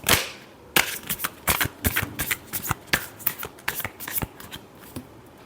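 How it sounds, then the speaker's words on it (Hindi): A deck of tarot cards being shuffled by hand, with a steady series of crisp riffling flicks and slaps, close and clear with no talking. "Last shuffle."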